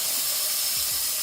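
Chopped onion hits a hot pan for Japanese-style fried rice and gives off a steady, close, bright hissing sizzle that stays even and unbroken throughout.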